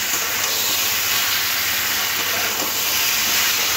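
A pumpkin, potato and pointed gourd curry being stirred in a pan, a steady loud hiss and sizzle throughout with no talking.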